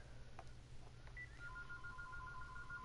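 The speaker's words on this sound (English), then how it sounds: "Shut up, phone." A phone rings quietly in a room with two repeating electronic tones, a short chirp and then a sustained two-note trill over low background hum.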